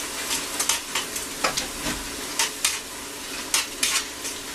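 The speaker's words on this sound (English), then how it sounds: "Stir all this up together." Chili con carne ingredients, onion and garlic among them, stirred in a frying pan, with repeated scraping strokes over a constant close sizzle.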